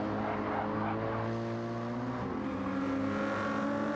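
A GT3 race car engine in a sim racing video game drones steadily at a distance, its pitch dropping noticeably partway through as it shifts or slows.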